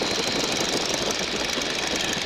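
A Boeing Stearman biplane's radial engine drones steadily and loudly in flight as it slows, a dense close roar mixed with wind noise, with no talk.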